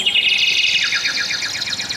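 Garden birds, parrots and mynas, chirp in quick repeated bright notes, a rapid descending series of tweets close by and clear, without talk.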